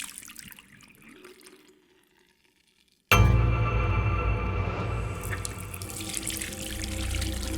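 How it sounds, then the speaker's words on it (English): A bathroom tap is turned on after a near-silent pause, and water suddenly gushes loudly and steadily into the sink basin, continuing as a close, rushing stream. "Jean turned on the tap, surprised to find there was running water."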